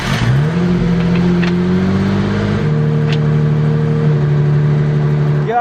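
A car engine idles steadily close by with a constant low hum and a slight lift in pitch early on, running on through the whole stretch with no talk over it.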